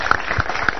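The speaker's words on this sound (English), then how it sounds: "Big round of applause." Audience applause at a robotics event unveiling a mind-controlled wheelchair, a brief, dense burst of clapping at moderate loudness with no voices over it.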